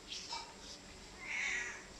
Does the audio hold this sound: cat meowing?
yes